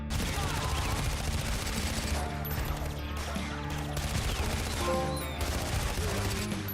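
Gunfire in Far Cry, fired from a moving vehicle: continuous dense shooting layered over a steady engine rumble, loud and sustained throughout with no talking.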